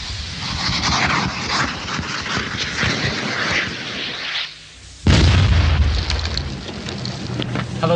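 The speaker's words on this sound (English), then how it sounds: "the Avery, fitted with a giant Viper rapid breaching device, explodes a safe path in a matter of minutes" A Viper rapid breaching device fitted to an armoured engineer vehicle detonates to clear a path through a minefield: dense rumbling blast noise, a brief lull, then a sharp loud explosion followed by sustained roaring debris and rumble.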